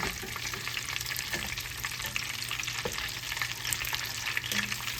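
Crispy coconut-coated shrimp frying in hot oil, a steady, dense crackling sizzle that holds close and even throughout, with a few sharper pops rising above it.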